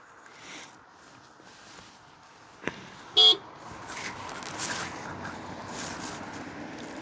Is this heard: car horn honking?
yes